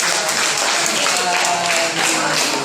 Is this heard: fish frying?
no